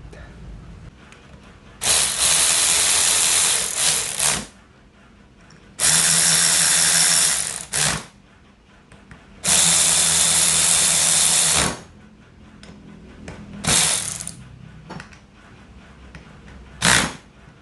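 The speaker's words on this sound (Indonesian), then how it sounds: "enak ya penggunaan ratchet itu seperti ini" Nagawa NRW16 cordless ratchet loosening bolts in a tight spot, buzzing in five loud bursts of about two seconds each, the last two shorter, with quiet pauses between.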